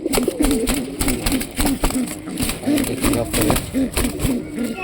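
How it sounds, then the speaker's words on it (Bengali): Shirazi pigeons coo under a tree in a repeated, low, throaty rhythm, close and clear over faint background noise. "গাছের তলে দেখেন পেঁয়াজি কবুতর বাচ্চা দিছিলাম"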